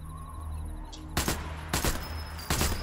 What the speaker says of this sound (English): He's gonna start shooting here in a sec.